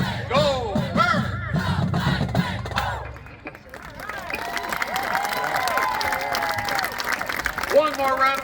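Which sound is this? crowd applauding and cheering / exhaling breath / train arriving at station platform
crowd applauding and cheering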